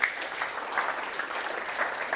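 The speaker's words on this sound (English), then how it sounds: "Well done. Round of applause." Brief, fairly quiet clapping from a startup pitch-night audience in Melbourne for a panel, a short, steady patter heard from across the room.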